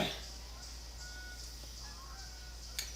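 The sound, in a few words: geese honking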